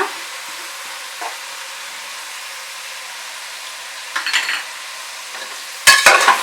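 Tomato, coriander and mint get stirred into biryani masala frying for nati-style chicken biryani: a steady close sizzle with a few scraping spoon strokes and a louder clatter near the end.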